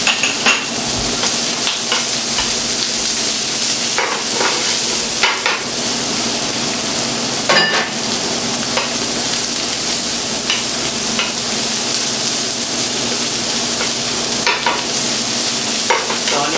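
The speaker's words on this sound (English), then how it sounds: "So at this point we're gonna add some onion, chopped onion." Chopped onion fries in a hot pan as okra masala cooks, a loud, constant sizzle broken by repeated scraping and clinking strokes of a spoon stirring against the metal. No voices.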